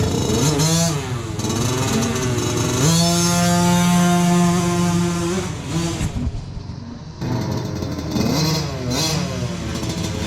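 A motocross bike revs hard for a practice start at an indoor track, its engine climbing and holding high pitched revs, dipping briefly, then surging again, loud and close with no talk.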